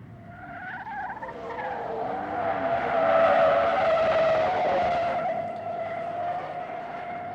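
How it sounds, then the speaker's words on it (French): A car's tires squeal in a long, rising skid through a tight turn, the screech swelling then fading with engine noise underneath. "Dans un virage serré, l'avant de la voiture est poussé vers l'extérieur"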